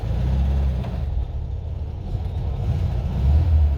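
The engine of a 1985 Mexican Volkswagen Beetle idles rough, a loud, close, low rumble that surges and dips unevenly.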